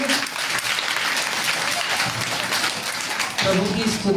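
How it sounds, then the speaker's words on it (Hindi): Audience applause at a Christmas meeting, a loud, dense burst of clapping, with a voice briefly heard near the end. "जोरदार ताली बजाएंगे।"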